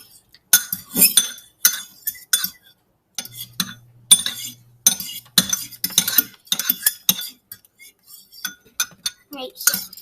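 Eggs are beaten in a bowl with a utensil, a rapid series of clinking, tapping strokes in uneven bursts with short pauses, close and fairly crisp.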